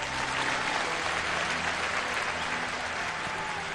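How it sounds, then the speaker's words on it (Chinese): Audience applause at a televised wedding-host competition show, a dense steady clapping from a large crowd that fills the whole stretch evenly without voices on top. "朋友们，再次将您的掌声送给他们"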